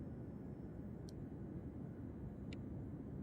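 An F-35B jet taking off in ARMA 3, a steady, dense engine rumble at constant loudness, with two brief faint high chirps on top.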